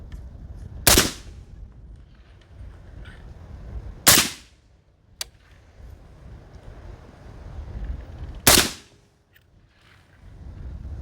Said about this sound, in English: Yeah, this thing's quiet. I'll shoot one more.